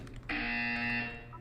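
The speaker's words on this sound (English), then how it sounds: "You will hear a buzzer." In the video game Portal 2, a loud electronic buzzer sounds abruptly, a sustained harsh tone that holds for about three-quarters of a second and then cuts off, heard alone with no talk over it.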